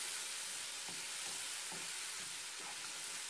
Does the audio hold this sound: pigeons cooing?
no